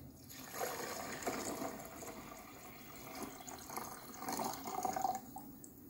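Water poured from a container over something in a home kitchen, a soft continuous splashing trickle at close range, fairly quiet and steady throughout with no talk.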